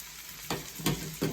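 Beef fat rendering into tallow in a giant soup pot over lowered heat, a soft steady sizzle broken by three brief stirring scrapes, close and fairly quiet.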